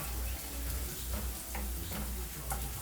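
Beans fry in oil inside a pressure cooker on a medium burner, giving a steady soft sizzle with faint crackles and a few clicking ticks throughout, fairly quiet and close.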